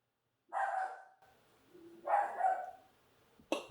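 A dog barks indoors, two loud barks about a second and a half apart followed by a sharp third yelp, fairly close with quiet pauses between.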